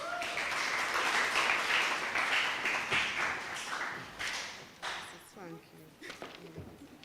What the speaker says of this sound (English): Give her a clap, please.